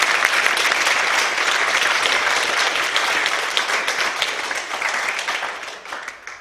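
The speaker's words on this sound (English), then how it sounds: "Let's give those people a round of applause." Audience applause at a business seminar for entrepreneurs in Albuquerque, New Mexico: dense, sustained clapping from a crowd that holds steady and then slowly thins out toward the end.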